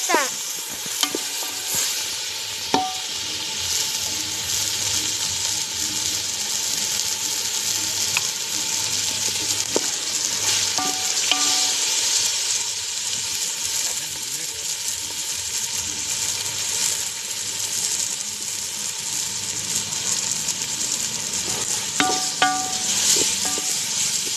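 Vegetables sautéing in a pan for dum biryani sizzle continuously, with a steady frying hiss broken by occasional metallic scrapes and clinks of a stirring spoon.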